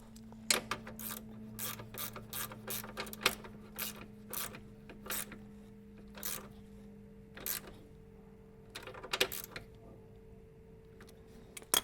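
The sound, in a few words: socket wrench tightening original 17mm head bolts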